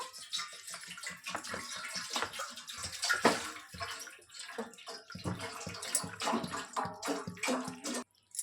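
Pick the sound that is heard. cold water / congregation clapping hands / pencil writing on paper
cold water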